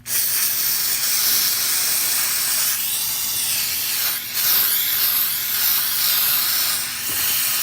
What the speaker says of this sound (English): we're gonna grab our brake clean and give it a good wash down